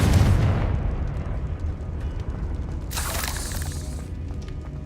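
A Confringo fire spell going off in a Hogwarts video game: a deep booming blast at the start, then a rumbling tail and a bright crackling burst a few seconds later.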